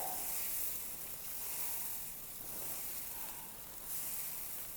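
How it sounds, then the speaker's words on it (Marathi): Dosa batter spread on a hot iron dosa tawa gives off a soft, steady sizzle, faint and even, with gentle swells and no talking. "आता आपण डोशाचं पीठ टाकायचं आणि सावकाश अगदी हा डोसा पसरवून घ्यायचा"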